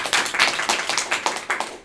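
Studio audience applause greets a guest arriving on a Turkish comedy talk show, a dense burst of clapping in steady waves for about two seconds with no voices over it.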